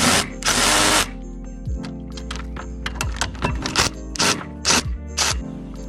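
Bolts being run in and tightened on a BMW E30 in a home garage, with a loud burst of a power tool followed by a series of short, sharp ratcheting and impact bursts over a steady low hum.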